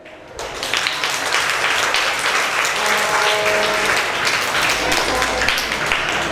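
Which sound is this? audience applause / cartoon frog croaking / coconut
audience applause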